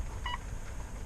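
A Mitsubishi Outlander's menu beep sounds once as a single short, faint electronic tone over a low cabin hum.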